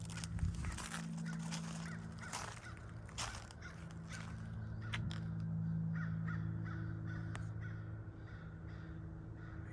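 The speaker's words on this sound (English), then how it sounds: "I hear crows, though." Crows caw repeatedly from the woods, a series of harsh calls at varying distances over a steady low background hum, with no talking.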